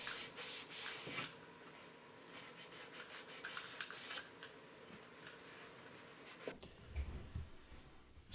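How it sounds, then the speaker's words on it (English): Sanding sponge rubbing along the edge of a cherry wood fireplace mantel, with steady scratchy back-and-forth strokes close by, rising and falling in bursts, with a louder handling knock near the end. "you come back and you hit it with a little bit of sandpaper. I like these sanding sponges because they can form really well."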